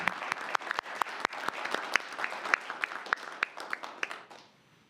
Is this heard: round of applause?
yes